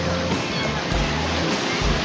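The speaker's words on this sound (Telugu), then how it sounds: "సింహాచలం నుండి డైరెక్ట్గా ఆర్కే బీచ్కి వచ్చాము. ఇక్కడ జనాలు ఉన్నారు చాలానే." Sea surf at crowded RK Beach in Vizag, a constant broad wash of breaking waves with low surges, mixed with indistinct voices of people nearby.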